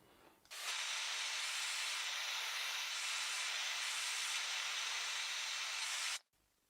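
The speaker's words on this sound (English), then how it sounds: "the technique to doing this is just to heat up the metal and then melt the solder onto the metal" Steady, loud torch roar of a blowtorch heating an aluminium picture frame for brazing with Durafix solder, starting abruptly and holding constant for about six seconds before cutting off, with no talk.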